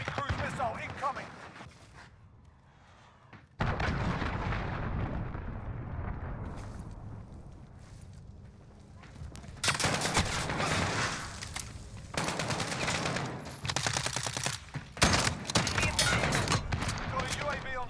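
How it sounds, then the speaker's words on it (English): A cruise missile strike in a military video game lands as rumbling explosions and gunfire, with loud bursts starting early and continuing in waves amid battle noise, while voices talk throughout. "Enemy cruise missile incoming"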